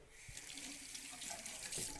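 Cold water runs steadily from a tap into a bathroom sink during a shave, a soft, even splashing stream that sounds faint and continuous with no voices.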